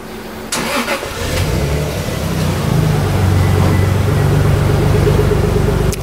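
A Nissan Skyline R34 GT-R fitted with a full body kit cranks and fires up, then settles into a loud, close, steady idle that continues to the end.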